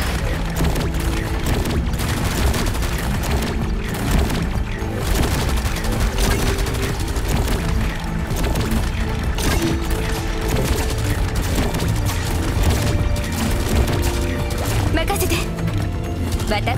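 Sustained weapon fire in the Arknights video game, with a thick, unbroken wall of rapid shots and mechanical clatter running steadily at high volume, while brief character voice lines sound over it.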